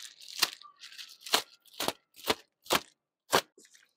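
A knife chopping 50 pounds of beef and pork into chunks for sausage, six distinct crisp cuts spaced about half a second apart in a quiet room.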